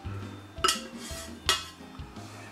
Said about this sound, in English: we'll stir this in just a little bit